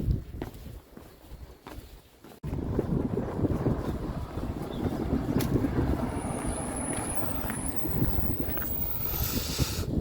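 Cool morning breeze buffeting the microphone outdoors on a pilgrim's road, a steady broadband wind rush that swells after a brief quieter start, with faint scuffing footsteps beneath it.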